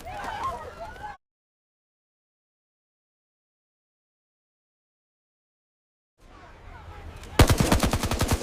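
Rapid bursts of automatic gunfire crack out loudly near the end, following a stretch of silence and some earlier commotion.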